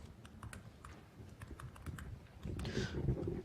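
Computer keyboard keys are being typed on during a programming lecture, making light, irregular clicks that sound fairly faint in a quiet room and grow slightly busier toward the end.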